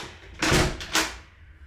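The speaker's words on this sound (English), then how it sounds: "let me close the door" An apartment door in a New York City studio swings shut, with two quick thumping knocks of wood close by and a short fading rattle afterward.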